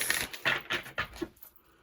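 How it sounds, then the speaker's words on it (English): Tarot cards being shuffled by hand, with four or five quick papery riffles and taps in a close, uneven rhythm, fairly quiet and with no talk over them. "One more shuffle for Pisces."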